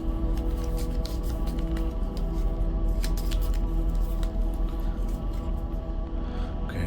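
Initiative cards from the Darkest Dungeon board game being shuffled by hand, a steady run of close, dense papery riffling and flicking that goes on for several seconds.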